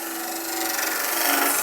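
Continuous close-up abrasive hiss of sandpaper rubbing against a resin egg spinning on a lathe, steady and bright with no talking.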